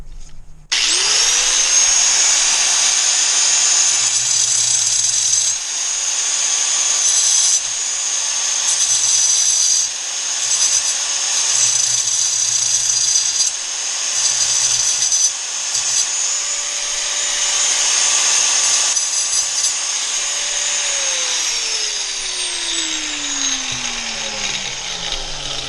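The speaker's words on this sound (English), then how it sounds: "So I'm going to grind me a slot down here to act as a weep hole." Power grinder cutting a weep hole slot, a loud, steady high-pitched whine that holds for about twenty seconds with slight dips under load, then winds down.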